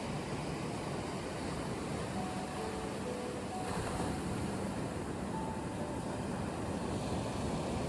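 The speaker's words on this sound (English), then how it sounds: "Allow the sound of the ocean to fill the space around you." Ocean waves wash in a steady, unbroken rush of surf, soft and even throughout with no distinct breaks or voices.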